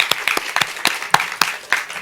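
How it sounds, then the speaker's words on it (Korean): A short burst of applause from a small group at a conference session, scattered claps with uneven rhythm, fairly close and moderately loud, no voices. "그분들을 위해서 좀 박수를 좀 쳐주셨으면 합니다."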